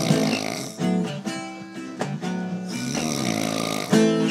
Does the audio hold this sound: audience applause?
no